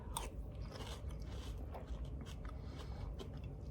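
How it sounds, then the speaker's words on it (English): Apple Pie Cinnamon Toast Crunch cereal soaked in milk is chewed up close, giving steady wet crunching and munching with irregular soft crackles and no speech. "Let's find out about that wet crunch for the last little detail here."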